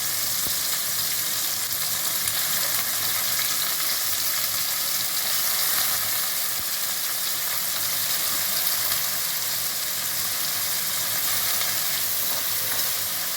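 Soaked raw lentils frying in hot oil in a pan give a steady, close, even sizzle that holds without a break, with no one talking.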